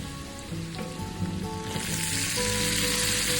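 Onion dropped into hot oil sets off a sudden loud sizzle that swells and holds as a dense, close crackling hiss over a background of a low hum, with no voices.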